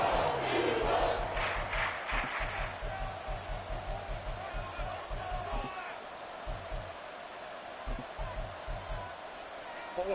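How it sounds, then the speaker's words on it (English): A football stadium crowd cheering, a loud, dense roar with rhythmic pulsing surges, like a chant, rising and falling throughout while a commentator talks over it. "This crowd turning up the decibel level."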